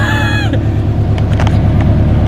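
A Subaru BRZ / Scion FR-S / Toyota 86 fitted with a CNT unequal length header roars loudly up close, a brief high rev dropping into a deep, throbbing, lumpy idle that fills the space.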